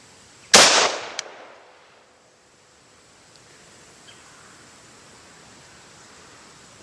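A single sharp Mini 14 rifle shot cracks nearby and decays over a second, followed by a fainter second report, then quiet outdoor ambience.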